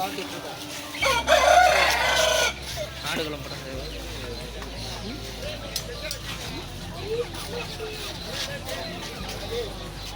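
At a Friday market in Pallavaram, Chennai, chickens and chicks cluck and a rooster crows amid a crowded, noisy background with people talking nearby.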